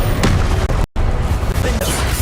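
Blasting spell fire in Hogwarts Legacy combat, a dense, loud burst of booming impacts that fills the whole stretch, with a sharp cut near the middle and the roar continuing afterward.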